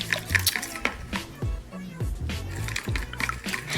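Eggs whisked together in a bowl, with quick irregular clinks and sloshing taps of the whisk against the bowl, faint voices in the background.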